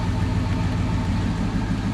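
A 1970 Pontiac Grand Prix engine runs at a steady idle, a continuous low rumble heard close and alone.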